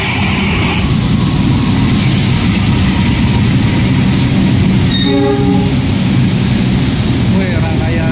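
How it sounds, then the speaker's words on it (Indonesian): A loud Papandayan passenger train hauled by a locomotive rumbles past close by, with a continuous heavy roar of wheels and a train horn sounding midway. "Ya, rangkaian kereta api Papandayan ditarik oleh lokomotif"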